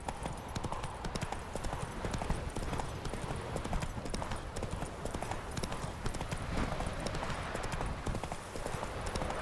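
Rapid, continuous clip-clop of a galloping horse's hooves in The Witcher 3, loud and close with steady rhythm throughout.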